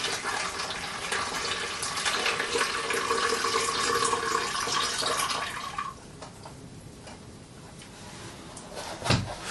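Tap water runs steadily into a film developing tank in a darkroom lab setting, a close, hissing pour for several seconds that cuts off, then a quieter pause ending in a brief knock.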